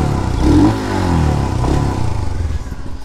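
A 2020 Royal Enfield Himalayan BS6 adventure bike's exhaust thumps close by, rising briefly as the engine is blipped, then settling back to a steady idle pulse.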